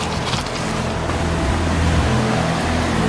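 Swollen creek on Oahu rushing at night during Hurricane Lane, a steady broadband roar of flowing water with wind, continuous and fairly near throughout.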